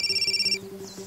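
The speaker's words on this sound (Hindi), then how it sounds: "मेरा फोन बज रहा है।" A mobile phone rings with a bright repeating electronic tone for about half a second, then stops, leaving a faint low hum.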